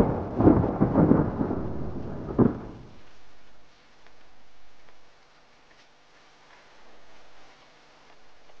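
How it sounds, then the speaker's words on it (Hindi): Monsoon thunder rumbles loud and low for the first three seconds during a road trip, then fades to faint rain patter and soft ticking in a quiet background, with no voices. "आधे टाइम अब बारिश हो गई है, जो कि बहुत ही अच्छा लग रहा है"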